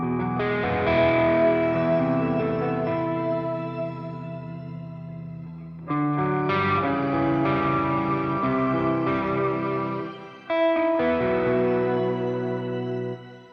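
Guitar chords ring through the shimmer reverb of a NUX MG-50 Li amp, each strum blooming into a sustained, shimmering wash, with three phrases separated by short breaks.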